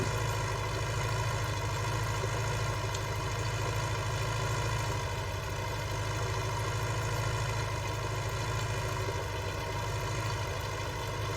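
A farm tractor idles steadily with a constant low, even drone and a faint mechanical hum, holding at the same level the whole time with no voices.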